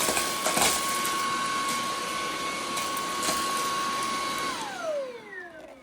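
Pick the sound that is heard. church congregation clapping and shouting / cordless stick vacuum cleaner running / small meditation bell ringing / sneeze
cordless stick vacuum cleaner running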